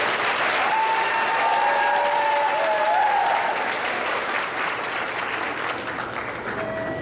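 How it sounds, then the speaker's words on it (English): An audience at a fifth grade graduation ceremony claps for a student, steady, dense applause holding at full strength, with faint background voices and a brief tone or whistle heard within it. "please give Daquan a round of applause"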